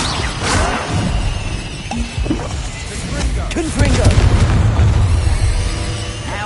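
A Confringo fire spell in Hogwarts Legacy, sounding as a series of booming blasts and crashes of gameplay combat, loud and near, set against a dense game soundscape.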